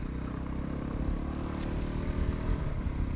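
Voge 300 Rally motorcycle being ridden on a rough UK road while braking, a steady low engine drone with road and wind rumble, continuous and close throughout.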